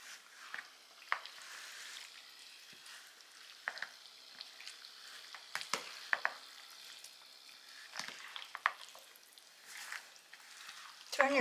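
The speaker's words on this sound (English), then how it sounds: "Okay, I'm going to stir this all together." Ground beef being stirred into a bowl of baked beans, giving soft, irregular wet scraping and squishing sounds with occasional louder clicks of the spoon against the bowl, fairly close and quiet, with no talking.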